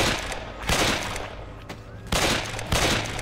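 Several sharp, loud gunshot bursts in the shooter game Survivors of the Caribbean, arriving in quick clusters with short pauses between, close and punchy over a low ambient background, with no one talking.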